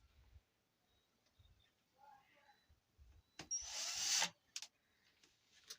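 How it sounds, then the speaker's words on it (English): A short burst of a power drill whirring for about a second, preceded by faint taps and handling noises in a quiet room. "now we're just going to drill through"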